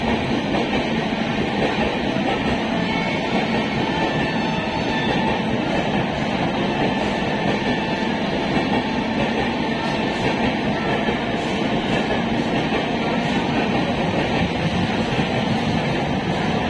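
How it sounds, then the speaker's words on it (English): From aboard a Howrah–Panskura EMU local, the 12073 Howrah–Bhubaneswar Jan Shatabdi Express overtakes it, heard as a continuous loud rumble of wheels and rolling stock with faint clattering, unbroken for the whole stretch. "Overtaken by 12073 up Howrah Bhubaneswar Jan Shatabdi Express."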